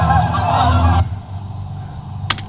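Geese honk loudly in outdoor nature footage, a dense overlapping cackle for about a second that cuts off abruptly into quieter ambience, followed by a brief faint sound near the end.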